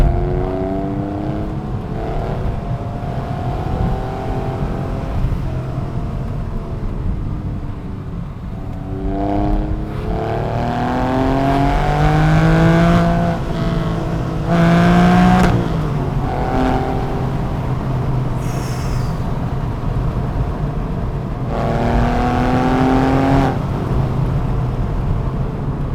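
Porsche 911 flat-six engine heard from inside the cabin while driving, a steady throaty drone with rising revs and gear changes on a rough stretch of road, loud and continuous.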